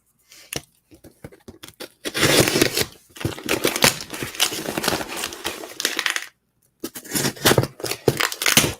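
Scissors or a blade slicing and tearing open a cardboard package box at close range, in bursts of rough ripping and scraping with short pauses between, loud and alone without talk.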